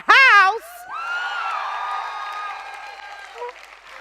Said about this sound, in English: you give me your wildest and your loudest applause